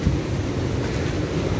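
Heavy ocean surf of big waves crashing on rocks at Watu Lepek beach, roaring continuously, a dense rushing wash mixed with wind buffeting close to the microphone.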